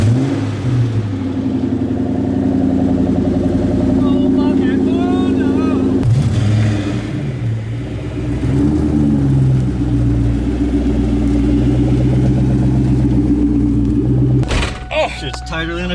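A 1999-2000 Ford Mustang engine cranks and rumbles to life, idling low and loud with throttle blips and revs rising and falling, close by, with people talking over it.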